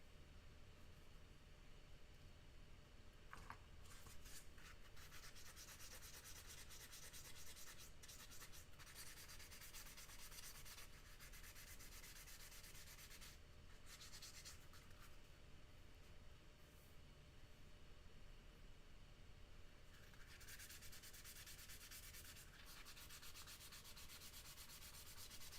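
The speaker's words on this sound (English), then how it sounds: "So I'm using a super fine sanding sponge, which is about 600 grit sandpaper" Steady, continuous rubbing of a super fine sanding sponge, about 600 grit, a soft hissing scrape that carries on without pause and with no talking.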